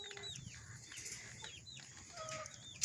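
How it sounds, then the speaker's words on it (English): Chickens cluck softly in a farmyard, with short scattered calls and light wing movement over steady background noise. "Chickens."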